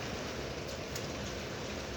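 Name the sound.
heavy icy rain during a thunderstorm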